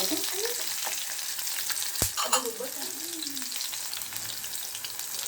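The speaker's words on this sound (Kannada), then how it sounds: "ಈರುಳ್ಳಿ ಹಾಗೆ ನಾನು ಒಟ್ಟಿಗೆ ಟೊಮೆಟೊನೂ ಇದ್ದೀನಿ ಇವಾಗ ಫ್ರೈ ಮಾಡ್ಕೊತಾ ಇದ್ದೀನಿ" Onion and tomato fry together in a pan with cumin, green chilli and garlic for a moong bean saaru. A soft, even sizzle runs throughout, with one sharp utensil clack near the middle.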